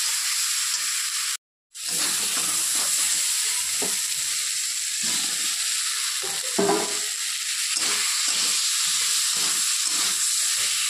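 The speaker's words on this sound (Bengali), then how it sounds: "এখন আবার একটু ভালো করে নেড়ে চেড়ে দিব" Spices cooking in hot oil in a pan for a katla fish and teasel gourd curry, a steady close sizzle and hiss with intermittent scraping stirs, briefly cut to silence near the start.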